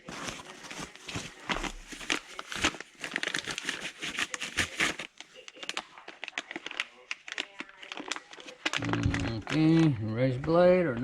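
Replacement parts for a modified Yamaha Grizzly 700 ATV come out of their box, with close, busy crinkling and rustling of packaging in irregular bursts, followed near the end by a person speaking.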